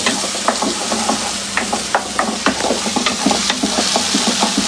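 Onion paste frying in a pan over low-medium heat for a fish curry, a steady dense sizzle with repeated scraping and stirring clicks throughout, close and fairly loud.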